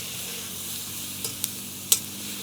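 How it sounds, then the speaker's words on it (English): Meat with its juices is stirred in a Concord wok, a steady close sizzle with a few quick scraping clicks of the utensil near the end. "Stir that around."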